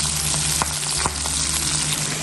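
Food for sisig sizzles on an open, uncovered grill, a dense steady crackling hiss close up with a low hum underneath and a couple of faint clinks.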